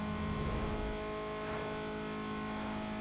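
Car engine revving in the racing game Need for Speed Underground 2, a steady loud droning motor tone that rises and holds throughout, with no talking.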